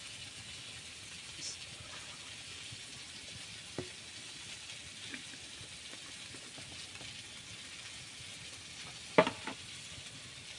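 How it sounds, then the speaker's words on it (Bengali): Chopped onion sizzles in hot oil in a kadai as a curry is started: a soft, steady frying hiss with a few faint stirring clicks, fairly quiet and with no one speaking. "তেল গরম হয়ে গেছে, পেঁয়াজ দিয়ে দিচ্ছি, একটু নেড়ে দেবো।"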